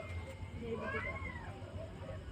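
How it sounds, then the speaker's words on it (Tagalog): A cat sitting by a shop door gives a drawn-out, wavering meow in the middle of the clip, fairly close and soft, with low background murmur around it. "Ay sus, na pusa ka."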